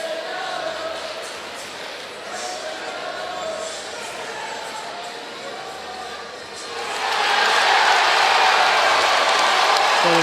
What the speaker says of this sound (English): So the crowd is cheering